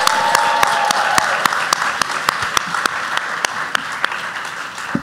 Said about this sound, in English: Folks, give it up one more time for April and Justice Junkie.